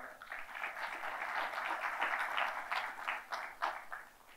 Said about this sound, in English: I would request you to give them a big hand of applause